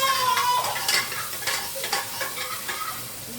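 Onion frying with cumin in a hot pan, a bright, loud crackling sizzle with quick stirring scrapes, continuous over a few seconds.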